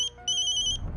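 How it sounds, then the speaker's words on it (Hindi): A phone ringtone chirps in bright repeating electronic tones, pausing briefly and then resuming, fairly close and clear with no talking. "अर्चना, किसका फोन है?"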